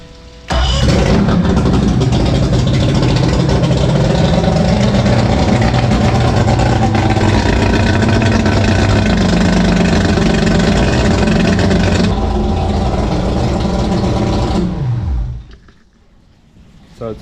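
A Mercury 3L outboard, converted from 225HP carbureted to 250HP EFI, runs loud and steady at a fast idle for about fifteen seconds before shutting down abruptly, leaving near silence.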